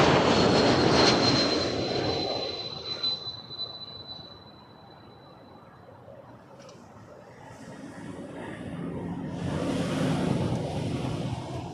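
A Boeing 777-300 jet airliner arriving from Rome at Toronto Pearson roars loudly, with a whining engine tone. The noise fades into a distant rumble, then swells again as more jet noise builds.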